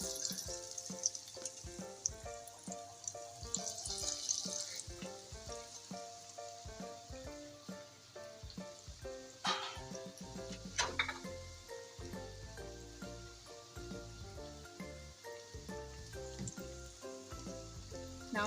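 Donuts frying in oil over a medium-low flame, a soft continuous sizzle and bubbling under quiet background music, with a few sharper crackles partway through and no speech.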